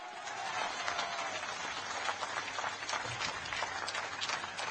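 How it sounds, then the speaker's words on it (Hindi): Crowd applause at an outdoor election campaign rally in Guna, Ashoknagar, a dense steady wash of clapping held at an even level throughout, with no voice over it. "तालियों की गड़गड़ाहट से"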